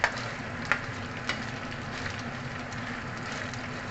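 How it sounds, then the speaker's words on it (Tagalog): Beef frying in oil in a pan, a steady close sizzle with a few sharp crackles and pops near the start, no voices over it. "dito na rin tayo mag-fry kasi nandito na yung lasa ng ating beef"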